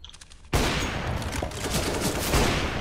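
Loud, close automatic gunfire in Counter-Strike: Global Offensive, fired through a wall, bursts in abruptly and keeps up a dense, rattling barrage to the end.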